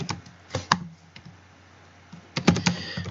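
Typing a command on a computer keyboard: a few scattered key clicks, a pause, then a quick close burst of keystrokes, with no talking.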